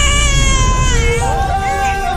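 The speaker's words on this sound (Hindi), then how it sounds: "यहाँ से आ रही है बच्चे की आवाज।" An abandoned newborn baby girl cries loudly and continuously up close, with wavering, drawn-out wails and a voice speaking over part of it.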